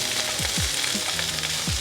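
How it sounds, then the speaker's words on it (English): Tofu scramble mixed and scraped with a spatula in a hot pan, a steady sizzle broken by several short scraping strokes, close and fairly loud, no voices. "So using the spatula, I'm just going to mix it up a little bit"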